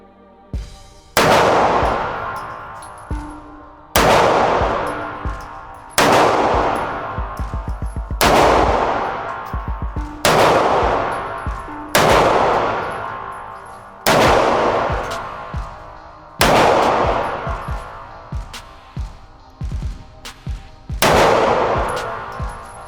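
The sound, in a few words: SIG P365 pistol shots fired at 5 yards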